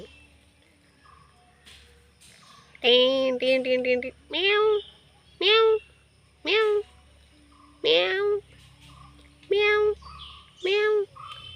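A kitten meows repeatedly while playing, giving about eight clear, close meows in an uneven rhythm over a faint background.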